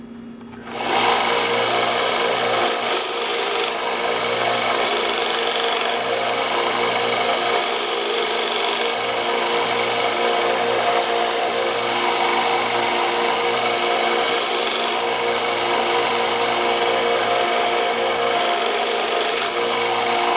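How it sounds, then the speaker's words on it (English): A German KAR 88 steel buttplate being polished on a power tool before rust bluing, a loud steady whirring rasp with brief shifts in pitch as the part moves, close and uninterrupted, no voices. "Just kind of polish this up a little bit in preparation for the rust blue finish."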